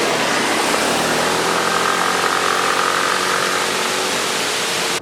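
A Yamaha Axis Z scooter engine runs steadily on the road, a constant buzzing drone mixed with strong wind rush, loud and unbroken with no voices.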